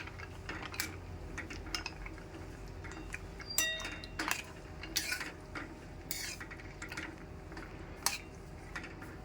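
A spoon stirring cashews, raisins and dates in a pan, soft scraping and light metallic clinks repeating irregularly at a quiet, close level.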